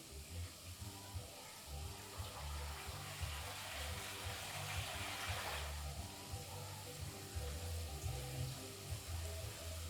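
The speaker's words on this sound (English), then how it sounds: "So we'll put some water in the peas." Water pours into a pot of peas on the stove, a soft steady hiss and gush that swells briefly in the middle, faint under a low background hum.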